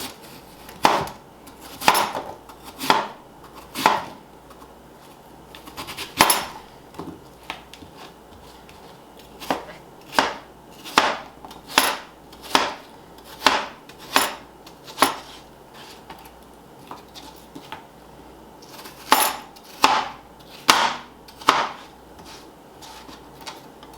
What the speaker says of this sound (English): And we're going to cut that into bite-sized pieces.